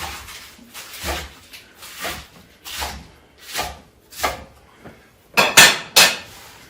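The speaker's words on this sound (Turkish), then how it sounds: "Mümkün olduğunca çok salata doğruyoruz." A knife chops salad rhythmically on a board, steady thuds about every half second, ending with a few louder, quicker cuts.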